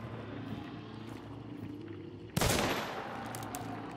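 A loud shotgun blast erupts in Hunt: Showdown, a sharp single shot followed by a ringing, decaying tail over a steady ambient backdrop.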